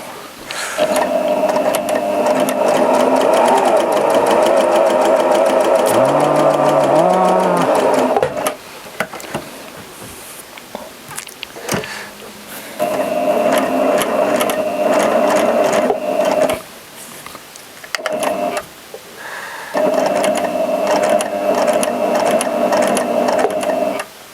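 A Janome 780DX professional sewing machine stitches in three long, loud bursts of steady mechanical whirring and needle rattle, with short quiet breaks and small clicks between runs; no talk.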